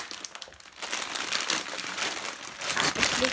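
Plastic bags crinkle and rustle as they are handled while unboxing a Diagon Alley building set, a busy, continuous crackle close to the mic.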